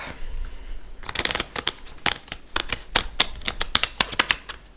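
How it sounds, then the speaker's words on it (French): An oracle card deck is shuffled by hand in a rapid run of crisp, papery slaps and clicks, loud and close, following a brief quiet start. "Il y a une complexité à brasser, cet oracle, d'ailleurs."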